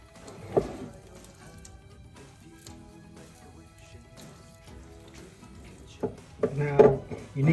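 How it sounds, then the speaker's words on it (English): A spoon stirs Christmas pudding mixture of milk and egg in a bowl, with soft scraping and occasional sharper clinks against the bowl, louder near the end. "And then it's back to stirring it up again."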